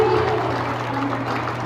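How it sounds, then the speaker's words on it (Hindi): Applause from a classroom audience at a spiritual gathering, a brief burst of continuous clapping under a steady low hum. "ताली हो जाएगी।"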